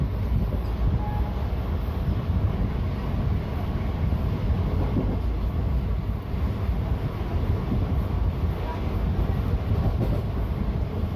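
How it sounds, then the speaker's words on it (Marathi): Nizamabad Express rolls along at speed, a continuous loud rumble and rattle of wheels on track heard from on board, steady with wind noise. "आता पहिल्या बोगद्यामध्ये आपली गाडी जाणार आहे"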